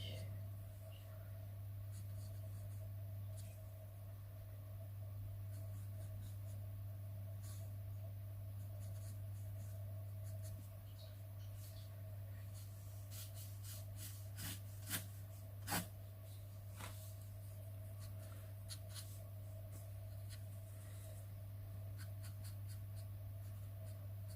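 Pencil drawing a caricature on paper: steady soft scratching strokes over a low background hum, with a cluster of quicker, crisper strokes and a couple of sharper taps midway, close and faint throughout.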